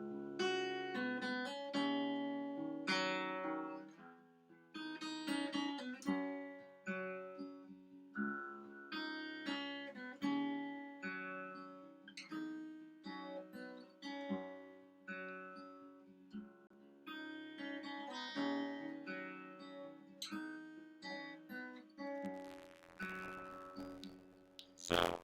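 Steel-string acoustic guitar plays a song with the bass line following octaves beneath, plucked notes and chord strums in a syncopated, stop-start rhythm, close and clean with no voice.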